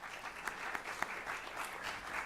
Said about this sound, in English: Let's give a round of applause for our employees.